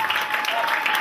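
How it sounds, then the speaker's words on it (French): Audience applause at a Labour Day ceremony: steady, dense clapping from a crowd, fairly loud and continuous throughout the short moment. "Applaudissons encore pour elle, s'il vous plaît."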